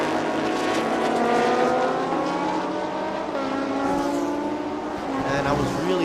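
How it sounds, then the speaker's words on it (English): Race car engines roaring past on a circuit during a Thailand Super Series motorsport event, a loud continuous whine of several passing cars with shifting pitch, heard from behind a concrete barrier under a commentator's voice. "I can still hear all this racket from all these engines roaring past"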